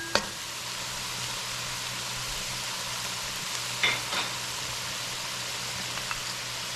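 Gilbaka stew curry with potatoes simmering in a pot gives a steady, quiet sizzle and bubbling hiss throughout, with a couple of faint clinks from the pot.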